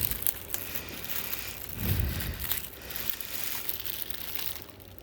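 Plastic wrap is pulled and crinkled off the case of an Atomos Ninja Flame 4K video recorder, with close, irregular crackling rustles and a denser burst near the middle, no talk.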